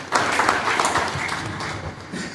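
An audience at a felicitation program in Shaktinagar applauds a student who passed tenth class, a dense, even wash of many hands clapping that holds steady and fades slightly toward the end.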